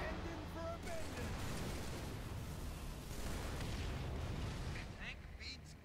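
Tank cannon blasts and explosions in Halo 3, a dense continuous barrage of booming fire and rumbling bursts, loud and close, with game voices mixed in.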